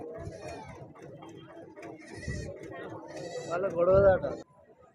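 Goats bleat repeatedly amid a crowd at a weekly livestock market, with people talking nearby and a loud, close bleat near the end.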